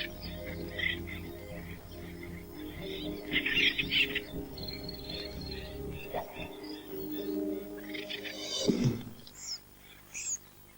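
Abandoned acorn woodpecker chicks give hungry cries, faint high chirps in brief bursts scattered over a murky background, a little stronger toward the middle and end.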